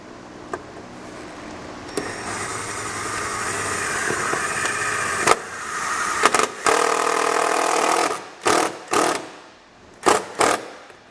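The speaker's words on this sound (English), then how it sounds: "I'm going to secure it using the included self-tapping screw." A self-tapping screw is driven into the pinch weld of a 2019 Kia Sorento with a power driver: a steady, loud whirring drive builds for several seconds, then stops and gives way to a few short bursts. No one speaks.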